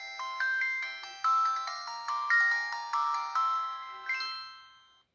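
An old phone plays its ringtone through its own small speaker, a bright electronic melody of repeated tonal notes in short phrases, fairly quiet and thin, heard alone for about five seconds.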